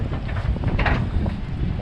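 Strong, gusty wind in Ketchikan, Alaska, a broad steady roar buffeting the microphone, loud and close, with no talk over it.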